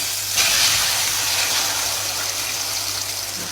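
Eggs meet a hot frying pan for an omelette, producing a loud, steady hiss that swells at the start and then holds evenly.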